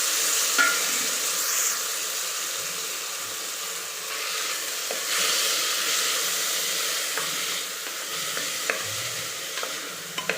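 Onions with two medium-sized tomatoes sauté in a pan for arisi paruppu sadam, giving a steady, close sizzle and hiss with occasional light stirring clinks and no talk.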